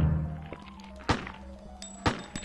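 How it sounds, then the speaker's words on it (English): A faint, short gunshot from a handgun in the video game Dino Crisis, with a few quiet thuds, then two louder sharp bangs about a second apart over low game ambience. "Have you heard how piss weak of a bang this gun is?"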